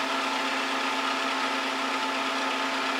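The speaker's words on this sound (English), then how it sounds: "So we'll just go ahead and drill this out." A drill whines at a steady high pitch for a few seconds as a letter F bit bores a tap hole in a cast gear, loud and close with no talk.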